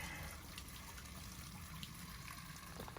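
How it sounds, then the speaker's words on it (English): Water trickles and splashes steadily from a gully pipe on a backpacking trail in Linville Gorge as a bottle is filled, a continuous faint stream close by with no voices. "Gully pipe here, gonna fill up before we make our descent down to the river."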